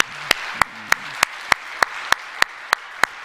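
A church congregation at a Friday dawn worship service claps in unison, about ten crisp, evenly spaced claps at a steady beat. A brief voice is heard faintly at the start under the first claps.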